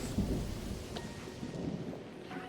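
Steady rain falls in the video game Mind Over Magic, with a low thunder rumble rolling underneath the dense, continuous wash of rainfall.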